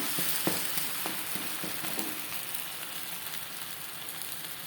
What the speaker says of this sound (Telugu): రెండో వైపు కూడా బాగా లో ఫ్లేమ్లోనే బాగా కాల్చుకోవాలి